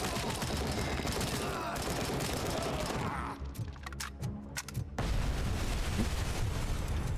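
Gunfire aimed at a gas tank in the video game RoboCop: Rogue City, dense bursts of shots rattling steadily, briefly thinning before resuming loud and close; the tank does not explode.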